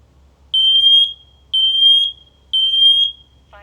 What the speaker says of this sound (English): This is the fire alarm with the 10-year battery life